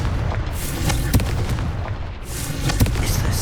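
A Confringo fire spell blast in Hogwarts Legacy sounds as a loud, booming burst with repeated explosive cracks over a rumbling low end, heard with no voices over it.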